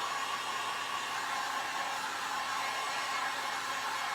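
A hair dryer blows steadily on a craft sign, giving a continuous, even whooshing hiss at close range with no other sounds.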